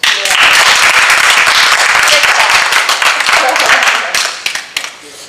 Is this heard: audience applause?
yes